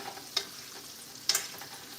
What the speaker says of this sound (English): we got that all sizzling up now